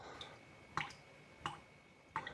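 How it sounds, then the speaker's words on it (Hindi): Water drips slowly in a quiet space, three distinct drops falling at roughly even intervals, each a sharp little plink against a faint background hush. "लेकिन पानी टपक रहा था।"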